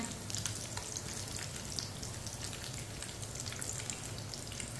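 Aloo tikki potato patties fry in oil in a pan, giving off a steady, soft, continuous sizzle and crackle with no talking.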